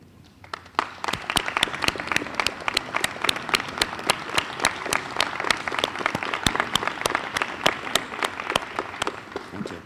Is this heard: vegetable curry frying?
no